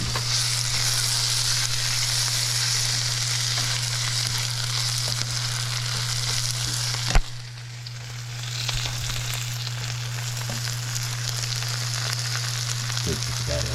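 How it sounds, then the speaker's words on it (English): Garlic, onion, green beans and snap peas sauté in a pan with a steady, close broadband sizzle over a constant low hum, briefly interrupted by a sharp clack around midway before the frying resumes. "add the garlic and the onion. Get that sauteed along with the beans,"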